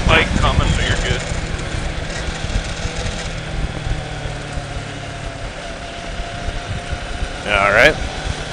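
A large motorcycle engine rumbles steadily in the background, with a brief louder revving pass near the end as the big bike draws close.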